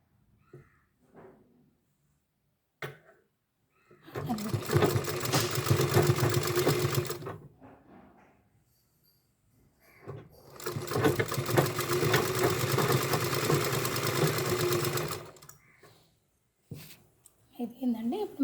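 A sewing machine stitching fabric for a frock made from a saree runs in two long, loud, steady whirring bursts of a few seconds each, with a person talking in the quieter gaps between them.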